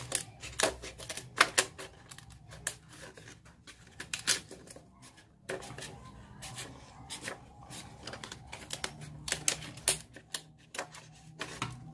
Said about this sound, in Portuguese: Pega uma tesoura velha, porque você vai cortar madeira.